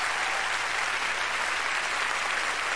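A concert audience applauding continuously, a dense, even wash of many hands clapping at steady loudness with no voices over it.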